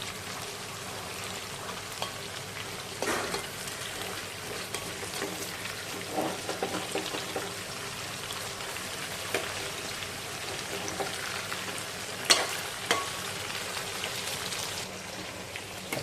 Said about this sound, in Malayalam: Chicken ബിരിയാണിക്കുള്ള chicken വറുത്തുകൊണ്ടിരിക്കുകയാണ്.